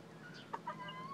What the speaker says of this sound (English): hopefully those are two hens